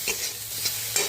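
Onion and garlic frying in a pan with salt and turmeric for a shortcut egg curry, a steady close sizzle broken by a few sharp stirring scrapes, no voices.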